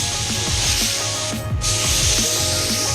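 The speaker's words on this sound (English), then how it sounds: "I didn't expect much from a Matco gun, but this is actually a really nice gun." A Matco 1.4 HVLP spray gun running at about 29 PSI sprays sealer in a loud, steady hiss close by, with a brief pause mid-way where the trigger releases and resumes.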